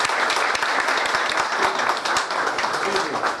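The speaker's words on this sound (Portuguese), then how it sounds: "eu queria pedir uma salva de palmas para o Hernani" A crowd at a company investment announcement claps in a dense, sustained round of applause, steady and fairly close, with no clear talk over it.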